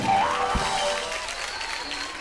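Audience clapping at a lively indoor show, a moderate burst that gradually thins and fades, with faint voices in the background.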